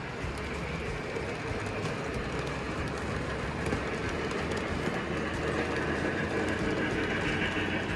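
An O-gauge model train rumbles steadily along its track with a continuous rolling clatter and faint clicks, with no voices throughout.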